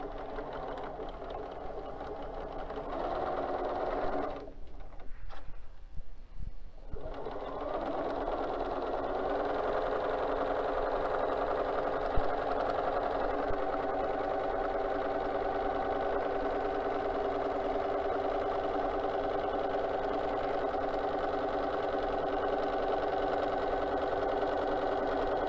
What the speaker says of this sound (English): And then we're just going to do a straight stitch.